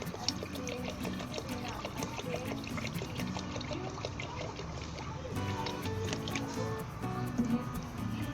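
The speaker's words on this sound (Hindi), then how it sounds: "हमें 4 कप पानी डालना है तकरीबन।" Water pours and splashes steadily into a pot for cooking saffron rice, about four cups, a continuous gurgling stream with faint voices talking in the background.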